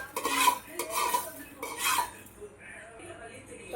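Metal utensils clatter and scrape as roasted dried red chillies are moved into another vessel, three quick bursts of clinking close up, then a quieter tail.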